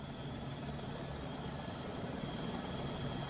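An LAPD Airbus AS350 helicopter flies over Los Angeles, its steady broadband rotor and turbine roar droning evenly and continuously throughout, with no talk.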